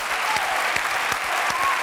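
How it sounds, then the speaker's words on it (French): Warm audience applause on a French television show, a dense, even roar of many people clapping with faint crowd voices mixed in. "Faut l'applaudir, mesdames et messieurs."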